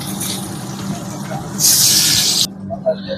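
An egg drops into hot oil in a pan for chowmein noodles and bursts into a loud, bright sizzling hiss for about a second before it quiets, with a voice talking around it.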